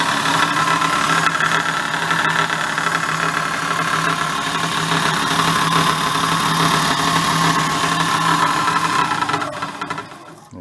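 Rattly, knocky belt sander, a free unit being repaired, running with a steady mechanical drone and loose clattering vibration, loud and constant before winding down at the end.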